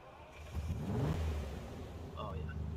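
A virtual car's engine in Farming Simulator 19 rises in a brief rev that swells then settles to a lower idle-like drone, moderately quiet, with a voice speaking faintly over it.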